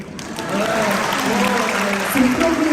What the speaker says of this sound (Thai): ขอเสียงปรบมือให้เลยดิ